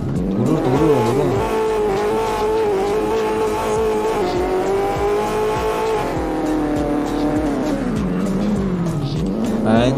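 A car drifts in CarX Drift Racing Online, its engine droning and revving under a sustained tire squeal that rises and falls, loud and continuous throughout with a voice faintly underneath.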